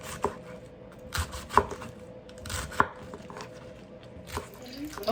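A knife chopping cabbage on a cutting board, a few sharp irregular thuds with softer cutting sounds between, close and moderately quiet.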